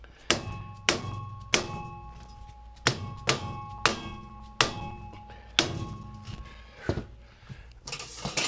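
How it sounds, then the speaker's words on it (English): Hammer blows while building wooden shelves, a series of about a dozen sharp, close, ringing knocks at an uneven rhythm, with brief quiet gaps between strikes. "Sounds like Half-Life hammering."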